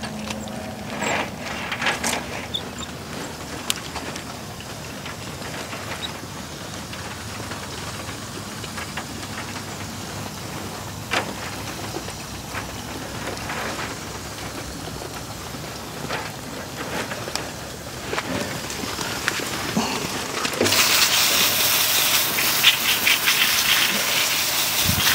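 A spray of water rinses dirt off freshly harvested horseradish roots, making a steady hissing gush that runs throughout with scattered knocks and louder, brighter spraying near the end, no talking.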